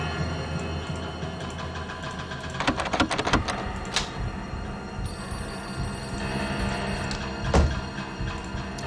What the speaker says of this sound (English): it's never good when a phone starts ringing